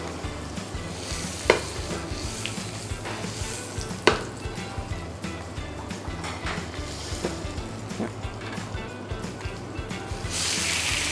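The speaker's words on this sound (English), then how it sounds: "we remove the threads first and then we'll be searing it off on the pan" Beef tenderloin searing in butter and a little oil in a pan, a continuous close sizzle with occasional knocks and stirring sounds, swelling louder near the end.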